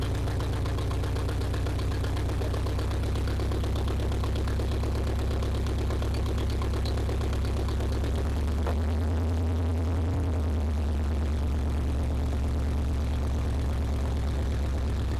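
A 1980 Chevrolet C10 Cheyenne square-body pickup engine running at a steady low rumble, rising briefly as it is revved before settling back to idle.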